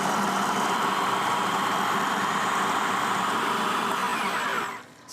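A blender whirling garlic and parsley for a vegetable soup, a steady high motor whir that runs continuously for several seconds and then cuts off at the end.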